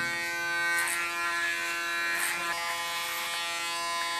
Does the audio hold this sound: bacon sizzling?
no